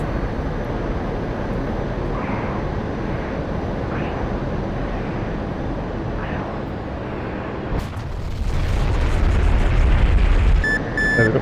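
A jet's afterburner kicks in during a DCS World flight sim mission, a continuous loud roar that surges sharply louder partway through, overlaid with faint cockpit beeps near the end.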